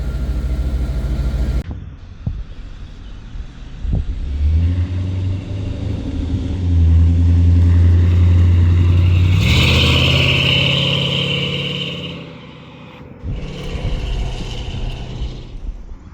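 A 1993 Chevy full-size Blazer fitted with Flowmaster 40 series mufflers and exhaust dumps rumbles loud and close, swelling into a deep sustained rev before easing back to a steady burbling idle.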